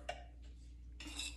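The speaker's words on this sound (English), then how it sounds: "Now we're gonna add our sweetener." Two teaspoons of sweetener added to a whipped piña colada shake, with a couple of soft spoon clinks and scrapes against a container, close and quiet.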